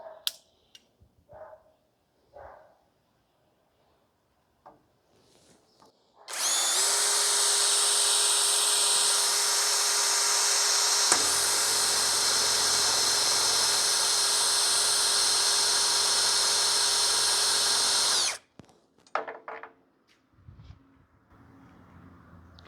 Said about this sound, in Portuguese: Vou mudar aqui para velocidade 2 e vou colocar em modo de perfuração.